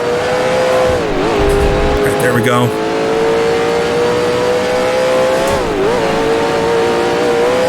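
Engine of a 1966 Can-Am race car at Mont Tremblant in the Grand Prix Legends racing game screams loudly and steadily, dipping and climbing through gear changes with a brief tire squeal, while someone talks over it.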